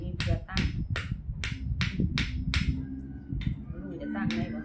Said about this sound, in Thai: ยาลัดก็จะตอกตัวนี้เพื่อตั้ง